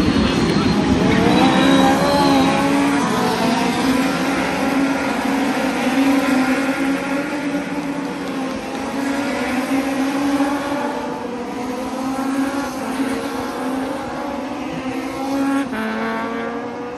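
Legends race cars at Knockhill circuit roar through the first lap of an Elite Cup race, a loud, continuous pack of engines droning and shifting pitch close by for the whole stretch, with no talk.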